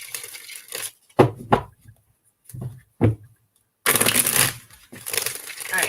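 Playing cards are riffled in short crisp bursts separated by silences, ending with a longer flurry of rapid flicking.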